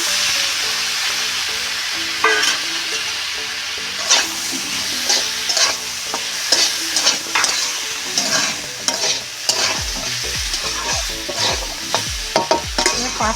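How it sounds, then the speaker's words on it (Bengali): Pasta and vegetables frying in a pan for an Ekadashi meal, a steady loud sizzle broken by repeated scraping stirs and clattering spatula strokes throughout, with no talking. "পাস্তা সবজিটা ভাজা গেছে আমি দিয়ে দেবো পাস্তাটা"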